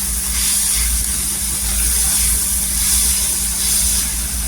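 Turmeric powder frying in hot oil in a pan for Maharashtrian vangyache bharit, a steady loud hiss of sizzling throughout with a low constant hum underneath.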